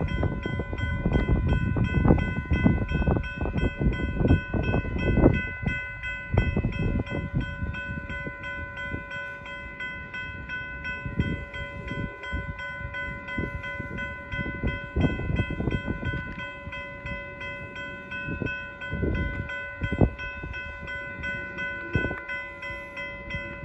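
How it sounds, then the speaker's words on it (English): Amtrak Capitol Corridor passenger train 736 rolls slowly past a grade crossing at Central Avenue in Newark, California, with a long steady rumble of wheels and cars, a sustained tonal hum and occasional clunks, fairly close and continuous throughout. "All right, folks, here comes Capital Core train 736. Now passing by here at Central Crossing."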